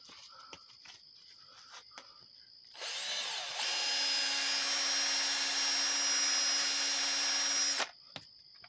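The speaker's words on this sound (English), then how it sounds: "You grab your sandpaper." A power tool, likely a rotary sander or drill, whirs steadily for about five seconds against a spent brass casing, starting and stopping abruptly, loud and close with faint ambient noise before and after.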